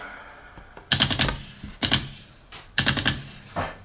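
Three close, loud bursts of rapid gunshots, each a short crackling volley, with a fainter fourth burst at the end and quiet gaps between.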